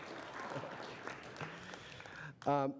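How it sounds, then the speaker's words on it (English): Applause from the audience at a college governing board meeting, a steady spread of clapping across the room for about two seconds, then a voice begins speaking near the end. "Let's give them a round of applause."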